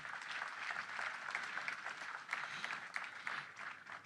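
A church congregation claps continuously and fairly steadily throughout, a dense crowd patter at moderate distance, with no voices standing out.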